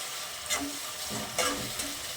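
Onion frying in a pan before garlic goes in for garlic bath, a soft steady sizzle punctuated by a few spatula stirs and scrapes, close and fairly quiet.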